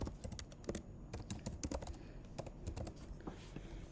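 Rapid typing on a computer keyboard, with quick irregular clicks and taps close by and fairly quiet, continuing steadily with no talking.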